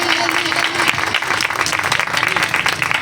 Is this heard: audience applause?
yes